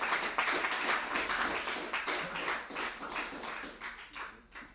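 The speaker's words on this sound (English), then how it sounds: "Give her a round of applause." Audience applause after a member of CEMOTAP is introduced at a lecture, a steady wash of many hands clapping that stays fairly loud throughout before thinning slightly toward the end.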